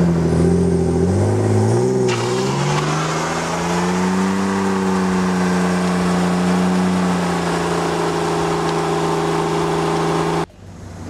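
A car engine revs up steadily during a standing burnout, pitch rising and then holding as the clutch engages with brake held, loud and close, cutting off abruptly near the end.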